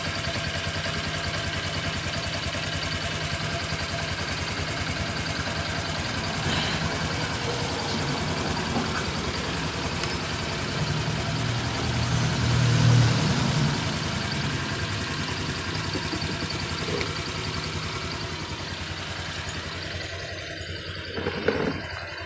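A Honda Click version 3 automatic scooter engine idles steadily after starting, a continuous low hum with mechanical vibration that holds fairly even, swelling slightly for a moment before settling, with no talk over it.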